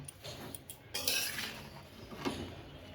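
A metal lid set down over a cooking pan of greens, producing a soft clink and rattle of metal on metal. The sound is fairly faint and close, with no voices.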